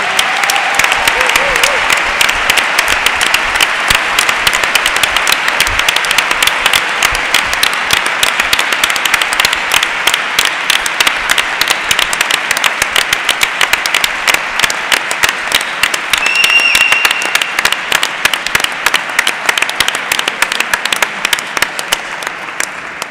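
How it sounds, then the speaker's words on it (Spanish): Loud, sustained applause from a large audience at a medical school graduation ceremony, dense continuous clapping throughout with faint voices underneath. "un fort aplaudiment per a aquests graduats i graduades de la Facultat de Medicina."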